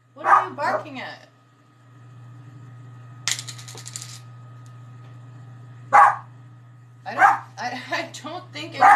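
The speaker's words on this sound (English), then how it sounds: "What are you barking at?" Maggie, a pet dog, barks indoors in a few sharp, close yaps mixed in with a person talking, over a constant low hum, with a brief metallic jingle partway through.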